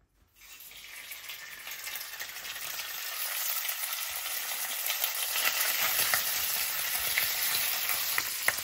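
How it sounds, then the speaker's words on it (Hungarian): Steady crackling sizzle of bacon slices frying in hot lard, building slightly in intensity, with occasional sharp pops and no voices. "Előre felforrósított zsíron kisütöm a szalonna szeleteket."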